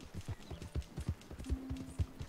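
Horse hooves clip-clop at a brisk, regular gait in the video game Red Dead Redemption 2, a rhythmic string of muffled thuds heard on their own at moderate loudness.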